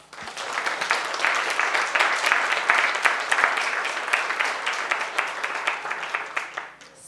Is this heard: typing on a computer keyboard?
no